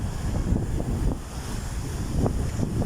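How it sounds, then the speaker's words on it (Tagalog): Strong sea waves wash ashore along the bay at Roxas City, Capiz, on Panay Island in the Philippines, a rough continuous surf mixed with heavy wind buffeting the microphone, with no talk. "Malakas talaga ang alon mga kabihedor."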